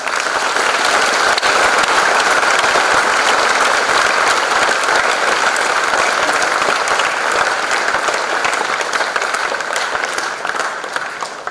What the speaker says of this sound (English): give them the loudest round of applause you can muster